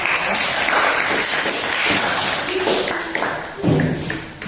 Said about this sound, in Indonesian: beri aplaus kepada kelompok